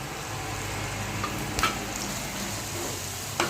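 Onions, green chillies and curry leaves frying in a pan: a steady close hiss and sizzle with a few brief louder crackles, no voices.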